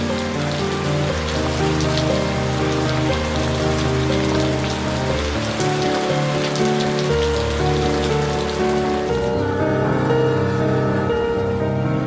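Steady, dense heavy rain with hail near Cirahayu and Ciawi railway stations in Indonesia fills the whole stretch, loud and continuous, with a faint tonal hum running underneath.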